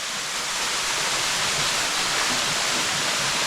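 Sapphire Waterfall cascading down over several rock features, a steady, loud, broadband rushing roar that stays even throughout with no voices.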